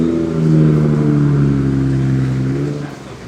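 A Nissan R32 Skyline GT-R with a straight-piped Tomei Expreme Ti exhaust revs up: a loud, raspy engine drone that rises and holds, then falls back near the end, close and alone.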